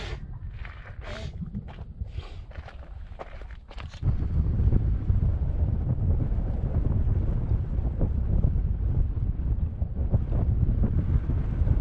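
Strong wind buffeting a microphone while cycling in Sudan, a steady low roar that swells noticeably louder partway through and continues unbroken, with no talking.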